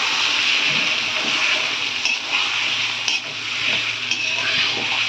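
Chicken curry masala being stirred and fried (kashano) in a pot gives a steady, close hiss of sizzling oil, with a few soft clinks and scrapes from the spoon and no talking.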